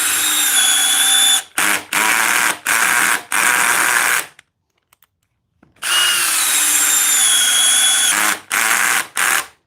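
A 12 volt cordless drill drives screws in loud, whirring bursts, several short runs in a row, a pause of near silence, then another long run followed by more brief pulses.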